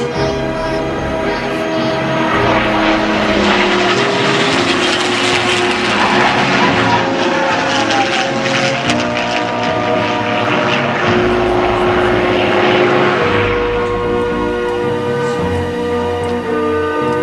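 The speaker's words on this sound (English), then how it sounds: "This was the first aircraft that could fly from England to Berlin and back again on a tank of gas" A long-range WWII propeller aircraft, able to fly England to Berlin and back on one tank, passes overhead at the Biggin Hill air show, its loud, steady multi-engine drone swelling and holding for the whole stretch before easing slightly near the end.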